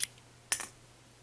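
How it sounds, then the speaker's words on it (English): Scissors snip through yarn during crochet work on an overalls skirt: one quick, faint cut with a soft second rustle, alone against a quiet room hum. "I'm going to cut my yarn"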